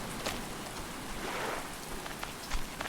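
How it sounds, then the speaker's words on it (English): Rain falls in Stranded Deep as a dense, steady hiss of drops on surfaces, with a few slightly louder patters breaking through the even wash. "Oh, it's raining."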